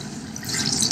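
Steady rinsing water runs through hair during a barber's shampoo and relaxer treatment, a continuous close splash and hiss that swells slightly toward the end, with no voices.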